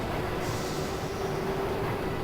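Subway train in the video game Spider-Man: Amazing Allies: a steady, dense rumble of rolling wheels with a faint tonal whine, continuous and fairly loud throughout, no voices.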